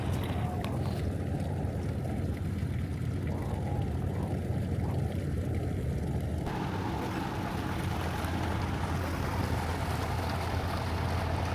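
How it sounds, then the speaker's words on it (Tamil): A boat moving along the backwaters of Alappuzha, a steady broad engine-and-water rumble with wind noise that runs continuously and fairly close throughout, with no talk over it. "இங்கே ஒரு பக்கத்தில் ஒரு போட் போயிட்டு இருப்பாங்க."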